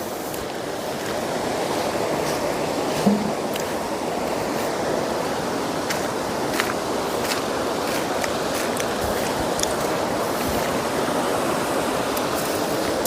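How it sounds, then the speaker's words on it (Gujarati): A steady, unbroken roar of water falling below the gates of Dantiwada Dam fills the air, loud and constant, with no voices. "ત્યાં એક્ઝેટ ધોધ પડે છે. બહુ સુપર હિટ ધોધ અહીંયા પડે છે."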